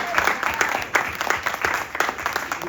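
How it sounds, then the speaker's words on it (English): Audience at a women's conference clapping, with distinct rhythmic hand claps pulsing roughly in time over a bed of scattered applause, fairly close and loud. "give her a hand clap"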